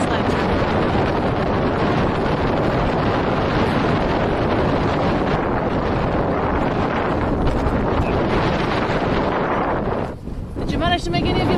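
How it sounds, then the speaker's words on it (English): Strong wind in Iceland buffeting the microphone, a loud continuous roaring rumble that barely lets up, dipping briefly near the end where a faint voice slips through. "It's windy in Iceland."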